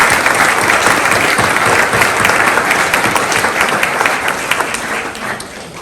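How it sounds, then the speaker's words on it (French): A large audience applauding loudly and continuously at a mayor's New Year ceremony in Pomponne, France, dense clapping that holds strong throughout and eases slightly near the end. "vous invite à les applaudir encore une fois"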